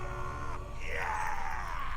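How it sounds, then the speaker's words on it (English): A hero character in the video game Fable II lets out a loud, drawn-out yell that rises in pitch and then trails off, standing alone with no talk over it. "You can scream."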